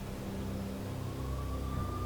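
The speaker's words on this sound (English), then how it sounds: "I could hear the sirens. Their wail was a crescendo." Police sirens wailing in Max Payne, a faint, steady tone above a low city rumble, swelling slightly toward the end.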